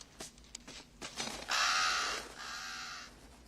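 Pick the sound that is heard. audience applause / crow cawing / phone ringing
crow cawing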